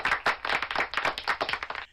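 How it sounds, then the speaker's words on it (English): A studio audience claps in a quick, even burst of hand claps for a guest named Val, close and steady for nearly two seconds before stopping abruptly. "a big round of applause for Val just for showing up"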